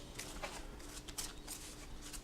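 Star Realms playing cards being shuffled by hand, producing soft, quick rustling and riffling bursts that are faint and close.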